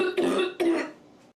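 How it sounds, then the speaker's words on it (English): Two quick throat-clearing coughs, close and fairly loud, each a short burst followed by a fading tail, heard alone as a symptom of asthma. "coughing"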